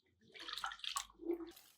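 Rice and moong dal are swished and rinsed in water for temple-style sweet pongal, a brief, faint splashing and sloshing.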